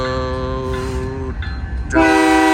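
A train horn sounds loudly and steadily at a level crossing with malfunctioning gates, cuts out briefly, then blasts again even louder, over the low rumble of rolling rail cars nearby.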